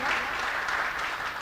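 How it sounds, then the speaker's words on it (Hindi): An audience at a mushaira breaks into loud, sustained applause, a dense wash of many hands clapping continuously without talk. "एक बार जोरदार तालियां बजा दिए ताकि मुझे भी सांस मिल जाए।"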